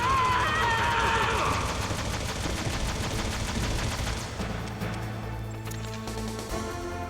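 Gunfire in the video game Metal Gear Solid, a dense burst of rapid shots that fills the clip, with music running underneath.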